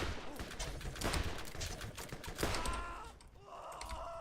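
Rapid gunfire from the video game Borderlands crackles in dense, uneven bursts, with sharp repeated shots clustering throughout and a brief lull near the end.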